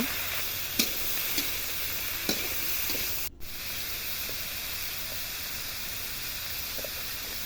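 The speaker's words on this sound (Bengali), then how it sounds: "এই যে মা চচ্চড়ির মাছ ভাইজা নিচ্ছে, মলা মাছ, পেঁয়াজ দিয়ে দিল, সব সবজিগুলো দিয়ে দিল।" Mola fish frying with onion and vegetables in a pan for chorchori: a steady close sizzle and hiss, broken by a few sharp clicks and stirring knocks and one brief dropout midway, with no talking.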